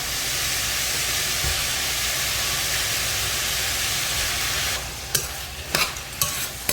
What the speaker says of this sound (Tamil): இந்த பீட்ரூட் இந்த ரைஸ் எல்லாத்தையும் சேர்த்து 1 நிமிஷம் சாட்டே பண்ணிக்கோங்க